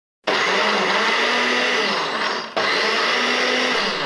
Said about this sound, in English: Place the spinach little by little into the blender and blend.